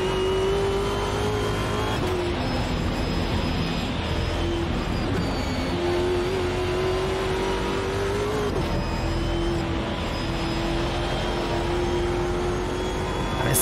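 A V8 race car engine roars around the Nordschleife in Automobilista 2, a loud continuous drone with steady high revs, brief dips at gear changes near two and eight and a half seconds, then climbing pitch as it holds speed.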